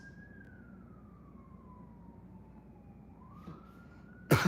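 Emergency vehicle siren wailing outdoors, a single slow rising and falling tone that stays faint and distant, ending in a brief louder thump close by.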